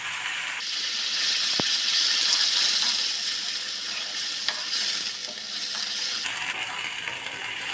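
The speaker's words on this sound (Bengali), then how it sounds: "এবার এটা একটু ভালো করে ফ্রাই করে নেব" A paste of ginger, garlic, onion, green chili and coriander sizzles loudly in hot oil with cumin seeds for a Punjabi-style egg curry, a steady close hiss with occasional stirring clicks and no speech.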